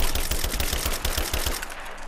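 Rapid automatic gunfire from the video game Rise of the Tomb Raider rattles out in a dense, loud burst of evenly spaced shots, with no pauses for about two seconds.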